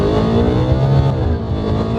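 A BMW M2 engine revving hard while drifting, a loud, close, sustained growl that rises and dips as the throttle changes, with no talk over it.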